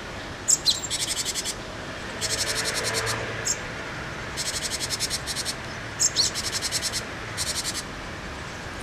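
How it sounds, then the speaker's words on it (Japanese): A parent bird calls near a nest of chicks in summer, repeating bursts of quick high chirping trills at close range, with faint insect and frog-like background chirps in between. "親鳥の鳴き声がせわしなくなってきました。"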